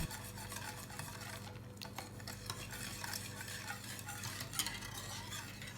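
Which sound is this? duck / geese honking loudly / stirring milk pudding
stirring milk pudding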